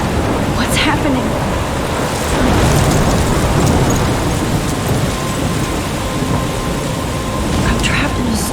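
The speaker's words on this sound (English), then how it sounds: "I'm trapped in a storm?" Steady heavy rain pours through a thunderstorm in the video game Life is Strange, with rolling thunder swelling in the middle, loud and continuous.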